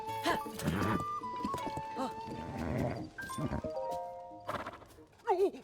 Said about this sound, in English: The horse that's whinnied to me in my dreams.